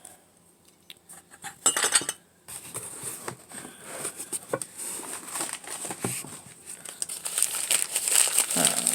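Close, continuous crinkling and rustling of paper wrapping as thrifted items are unpacked, with occasional light clinks of dishes or glassware among the crackle.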